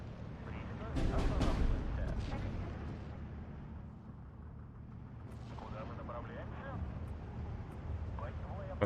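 Rocket artillery barrage in the World War II strategy game Steel Division 2, heavy booming bursts rolling in the first seconds, then lower rumbling impacts trailing off with scattered distant pops and crackle, no talk over it.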